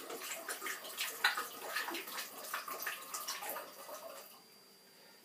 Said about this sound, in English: we put in our 1/3 litre of apple juice